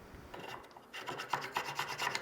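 A hand file rasps a slot into the handle of a mosaic Damascus bowie knife, quiet rhythmic strokes that grow sharper and more regular after a soft start, alone without talk.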